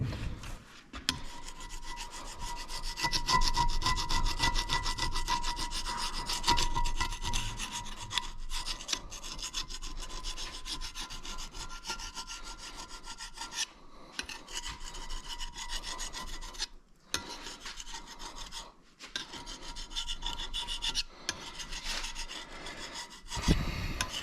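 Steady raspy scraping of rust from a Ford 460 cast-iron cylinder head, continuous and close with brief pauses, a dense abrasive rubbing texture alone without talk.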